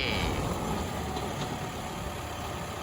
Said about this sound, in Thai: คุณครูวันนี้มาขับรถไถให้ครับ